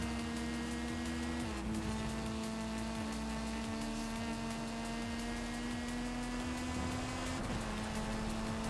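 A rally car engine in the Forza racing video game drones at a steady, moderately loud pitch that shifts between gears a couple of times, with no talking.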